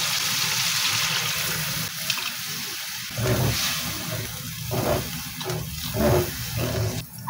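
Coconut milk poured into a pot of prawn curry, a soft continuous liquid pour with gentle gurgles and splashes, fairly quiet and close.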